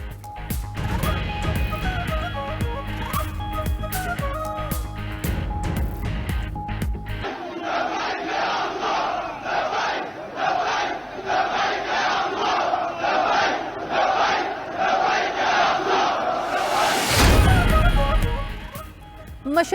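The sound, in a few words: crowd of Palestinians chanting slogans at Al-Aqsa Mosque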